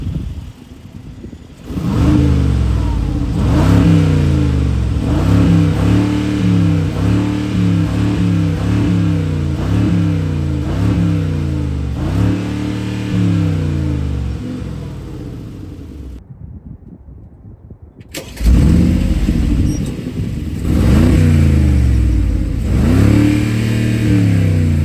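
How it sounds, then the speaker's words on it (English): The V8 exhaust of a 2024 Mercedes-Benz G550 roars through repeated throttle blips, deep and loud up close, with a brief cutout before the revving resumes. "I cannot wait any longer to hear this V8 roar, so let's go ahead and take a listen to the exhaust"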